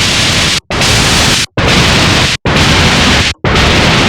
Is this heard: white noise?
yes